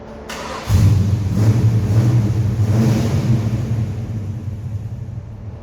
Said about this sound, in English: have a listen to the pipes. They sound absolutely fantastic.